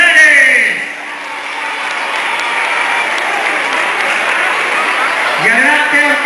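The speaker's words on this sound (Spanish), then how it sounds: "¡Ese aplauso para ustedes!" A carnival crowd in Paracuellos de Jarama bursts into loud, sustained applause, with a voice speaking over it at the start and again at the end.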